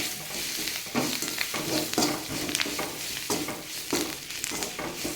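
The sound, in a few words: curry leaves stirred and frying in oil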